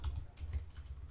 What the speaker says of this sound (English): go to the browser, in a new tab, just type localhost